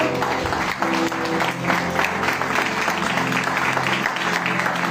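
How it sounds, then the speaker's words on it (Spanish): A church congregation applauds for the Lord in a steady, enthusiastic round of clapping that carries on throughout, with faint voices mixed in. "Quiero que te sientes dando un aplauso al Señor."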